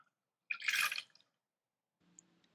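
River water from the Santa Cruz River is poured during a worship service, a brief close splash and trickle lasting about half a second, followed by a faint low hum.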